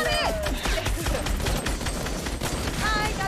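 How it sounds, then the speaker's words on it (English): Rapid bursts of gunfire crackle almost nonstop, loud and dense like several weapons firing at once at a player's build in Fortnite. "The amount of gunfire being dumped on that man's build."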